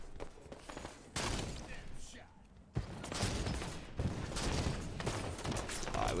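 Halo 5 multiplayer gunfire in bursts of rapid shots that come and go, with a loud broadband onset near mid-clip, all sitting under a busy game mix.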